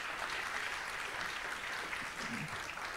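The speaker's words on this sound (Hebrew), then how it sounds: "מחיאות כפיים" An audience at a rabbi's lecture breaks into steady, dense applause, loud and sustained for several seconds.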